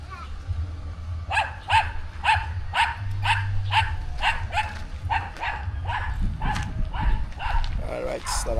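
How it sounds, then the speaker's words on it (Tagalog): Several dogs bark repeatedly at a rural bahay kubo, a rapid run of sharp yaps close by, layered over low rumbling and people chatting in the background. "Ang daming aso."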